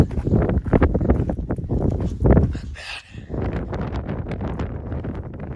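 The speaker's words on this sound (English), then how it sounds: "A little windy, but not bad." Steady wind buffeting the microphone in a low, rumbling roar, gusting louder at moments and dropping briefly before picking up again, on a mountain trail above 13,000 feet.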